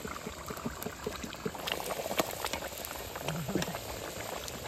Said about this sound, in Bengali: আলুগুলো সিদ্ধ হচ্ছে তো একবার দেখিনি